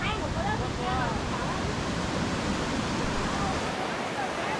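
Constant broadband rushing of river water in Sapa, Vietnam after rain, loud and unbroken, with some wind buffeting and faint voices blended into the roar.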